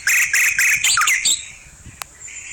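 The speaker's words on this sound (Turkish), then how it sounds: "Bülbülü böyle öttürüyorum." Nightingale song played back from an MP3 player in a forest, loud and close: a rapid series of bright repeated whistled phrases with short gaps, then a quieter trailing note and a single sharp chirp.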